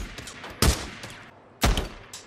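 Two heavy, booming single shots from a special weapon in the video game Days Gone, about a second apart, each loud and close with a short rumbling tail.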